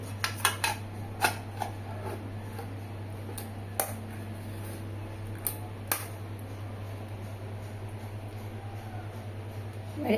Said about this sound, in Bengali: এবার এই বাটির ঢাকনাটা আটকে দেবো